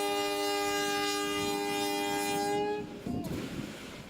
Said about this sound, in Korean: 무궁화호 열차가 기적을 울리며 서서히 움직입니다